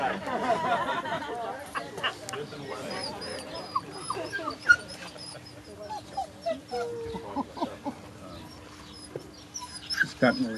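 A dog whimpers and yips amid outdoor wedding chatter, high whines and short cries scattered through the scene while people talk and murmur in the background.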